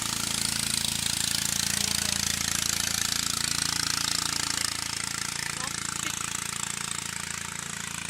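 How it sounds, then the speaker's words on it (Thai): A steady, loud engine drone with a rough mechanical rattle runs throughout, as a villagers' motorboat pulls away at close range at Korbong village, Nakai district, Khammouane, Laos. "เรือที่กำลังออกไป"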